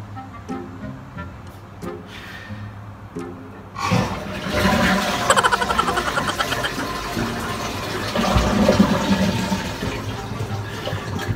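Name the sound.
toilet flushing in a public restroom in Japan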